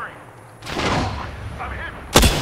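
Gunfire from a weapon in Apex Legends: a burst of shots after a quiet start, then a sharp loud report near the end, with in-game voice callouts mixed in.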